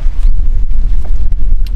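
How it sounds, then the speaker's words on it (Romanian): A steady southern wind blows across the Danube Delta, a loud, continuous low rumble of gusts buffeting the microphone with no voices heard. "vântul bate de la sud"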